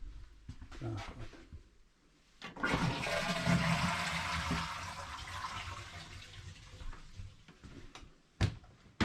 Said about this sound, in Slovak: Záchod.